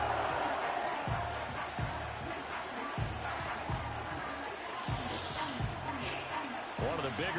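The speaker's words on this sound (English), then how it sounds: "The crowd getting into it as we come up on a big 3rd down." Stadium crowd in the Madden 25 football game, a steady roar of cheering and crowd noise building ahead of a big third down, with recurring low thumps and broadcast speech mixed underneath.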